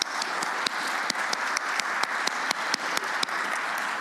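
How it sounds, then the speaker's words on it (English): A conference audience applauds after a panel of presentations on artificial intelligence and welfare policy: an even wash of many hands clapping, with a few sharper claps standing out and almost no talk. "And that applause is for all three presentations."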